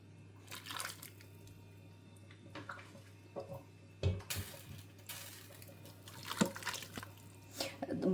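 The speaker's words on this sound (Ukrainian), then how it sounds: "Я додаю курячий бульйон, який в мене вариться поруч." Chicken broth is poured from a nearby pot into a multicooker holding pumpkin for cream soup: splashing liquid and a few clinks of cookware in irregular bursts, close and moderately loud.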